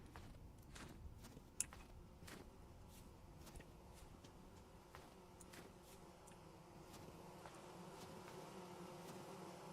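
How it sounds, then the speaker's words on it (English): Bees buzz in a tree in the survival game Vintage Story, a faint, continuous droning hum with light footstep-like ticks scattered over a quiet background. "There's more bees in this tree."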